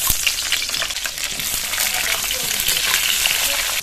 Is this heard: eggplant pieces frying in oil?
yes